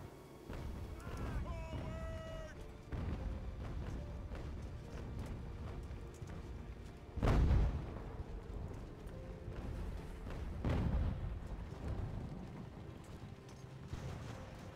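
Cannon fire from sailing warships in Ultimate Admiral: Age of Sail: two heavy booms, one near the middle and another a few seconds later, rising out of a steady rumbling battle ambience with faint hoof-like clatter.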